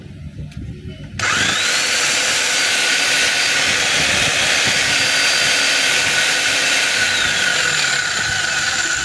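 A DeWalt D25899 10 kg jackhammer is switched on and runs continuously, a loud, dense, sustained roar that starts abruptly after a brief word.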